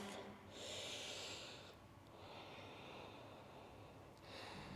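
During a Vinyasa yoga session, slow nasal breathing comes as soft, faint inhale and exhale rushes, about two breaths, close and alone with no talking.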